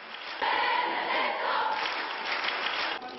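A large crowd in Wadowice gives Pope Benedict XVI an ovation, a dense, steady roar of cheering and clapping that swells at once and holds loud throughout, with no talking over it.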